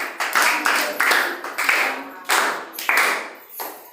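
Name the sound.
students clapping hands in a classroom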